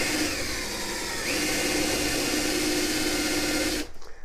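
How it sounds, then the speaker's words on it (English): A power drill with a 1/4-inch bit bores a pilot hole deep into a wooden staircase newel post, a loud continuous whirring grind held steady for several seconds before it abruptly stops. "We're going to drill this as deep as we can because we're going to be putting a forester bit in here."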